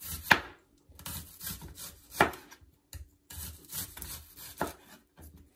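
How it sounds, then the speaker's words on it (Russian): Close, irregular knife strokes chop through onion on a wooden board, crisp thuds and slicing scrapes with brief pauses between cuts. "Лук тоже буду нарезать вот такими вот кольцами."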